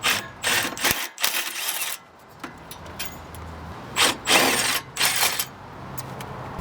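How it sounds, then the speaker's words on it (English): A ratchet wrench with a 19 mm socket removing brake bolts, several bursts of rapid clicking separated by short pauses, close and clear with no talking. "let's grab the 19 millimeter and let's get these off."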